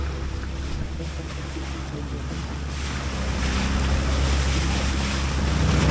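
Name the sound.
boat traveling on a dammed river lake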